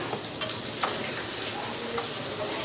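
Tindora (ivy gourd) pieces sizzle softly in hot oil with turmeric, with a gentle continuous frying hiss and a few light scrapes as the pan is stirred.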